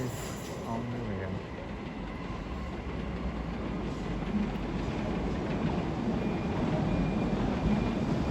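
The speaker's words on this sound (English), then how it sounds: "As a Hammersmith and City Line service to Hammersmith arrived" A Hammersmith and City Line train draws into a London terminus with a steady low rumble that builds slowly, a short tonal whine early on, and faint voices in the background.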